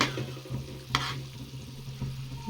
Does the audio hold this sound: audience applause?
no